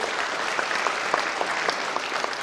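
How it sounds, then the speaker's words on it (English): Steady crowd applause, many hands clapping densely and evenly throughout, fairly loud with no voices standing out. "can we please have a round of applause for these statistics?"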